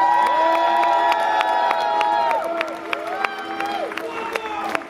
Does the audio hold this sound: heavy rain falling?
no